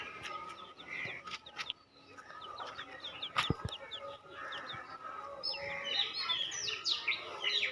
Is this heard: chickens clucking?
yes